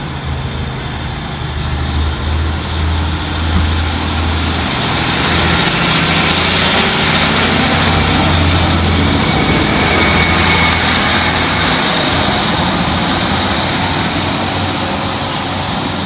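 Northern class 150 diesel multiple unit departing Church Fenton station, a steady low engine drone building and holding loud throughout, with broadband rumble swelling as it pulls away, no talking.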